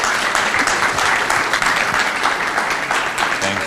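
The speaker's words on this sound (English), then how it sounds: "Let's give another round of applause." Audience applause at a Coptic women's fellowship gathering, a dense steady wash of many hands clapping together, loud and sustained throughout with no voices breaking through.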